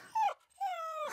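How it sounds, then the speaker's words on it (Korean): A cartoon dog whimpers twice at a fancy ball, high plaintive whines that slide downward, close and fairly clear, with no talking. "어디서 이런 더러운 강아지가 나타난 거야!"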